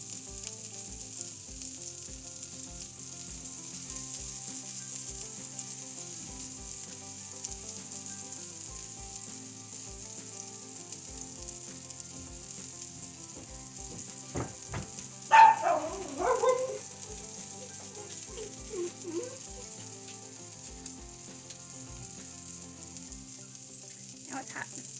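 Pork sausage fries in a pan, a continuous soft sizzle running the whole time with faint ticking underneath and a short louder clatter near the middle, no talking.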